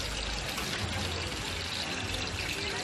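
Curry seasoning mix of pepper, onion, shadow benny and ground spices going into hot, bubbling oil in a pot, giving a steady close sizzling hiss with a low rumble that holds evenly throughout.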